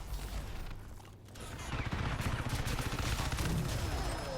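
Rapid gunfire from Crysis 3 multiplayer, a sustained burst of shots that grows denser and louder after a brief dip, with game effects in the background.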